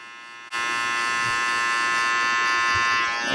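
Detachable electric hair clipper switching on and buzzing steadily while fading hair, a close, constant motor hum with a bright harmonic whine and faint brushing through hair.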